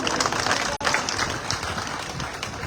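Loud, dense applause from a crowd at a Rajasthan political rally for Satish Poonia, sustained clapping close by for nearly three seconds with a brief dropout near the start.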